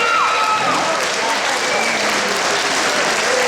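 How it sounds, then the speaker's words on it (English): A crowd gives a standing ovation after a women's fight at a combat sports event, with thick, sustained applause filling the venue and voices faintly mixed in. "Standing ovation for both of these ladies."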